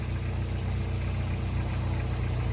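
A car engine hums at a low, steady idle as the driver eases out the clutch, a constant close rumble with no clear rise in revs and no talking.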